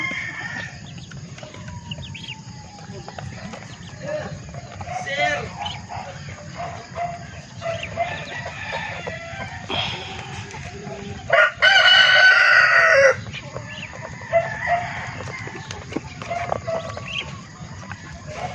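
A Black Australorp rooster crows loudly and close among hens, one long crow standing out over steady background clucking and farmyard bird noise.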